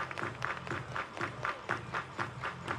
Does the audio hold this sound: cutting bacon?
no